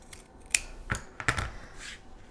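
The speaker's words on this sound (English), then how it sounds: "I'm just going to eyeball it with some scissors." Scissors snip through quilt fabric for a sawtooth star block, a few crisp separate cuts close up with quiet pauses between them.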